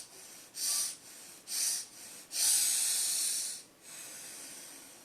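Rapid deep meditation breathing: four short forceful hissing breaths in quick succession, then a longer sustained exhale, close and breathy with no talk over it.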